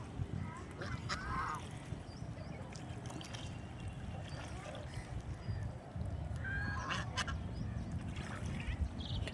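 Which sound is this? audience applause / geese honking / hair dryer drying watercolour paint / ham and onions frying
geese honking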